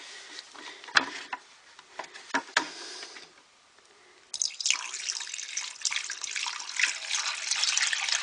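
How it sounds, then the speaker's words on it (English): Water from a bucket emptied into a basement floor drain fitted with a check valve, beginning with a few sharp drips and splashes, then after a short gap a sustained gurgling rush of water pouring down. "Water in a bucket."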